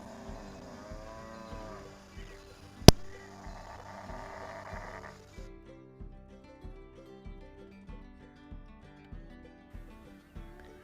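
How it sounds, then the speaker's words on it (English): Curious cows mooing on a farm where a horse is being started under saddle, long drawn-out calls near the mic, followed by background music. "All these cows very curious today."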